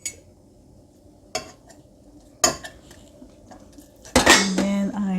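A utensil scrapes and clinks in a pan while miso is pressed into green beans, with scattered clatter and knocks followed by a louder burst of scraping and rattling near the end.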